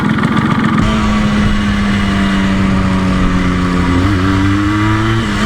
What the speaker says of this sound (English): going up through the gears, revving her out.